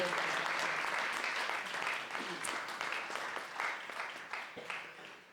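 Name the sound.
applause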